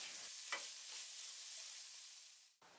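Chopped tomatoes frying with spices in a pan, a faint steady hiss of sizzling with a brief stirring scrape near the start, the sound stopping abruptly before cutting back in at the end.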